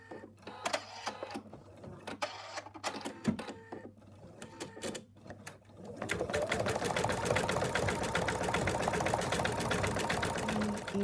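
An embroidery machine stitching an elephant's ear for an in-the-hoop toy starts with scattered quiet ticks and needle taps, then settles into a dense, fast, continuous rhythmic stitching whir.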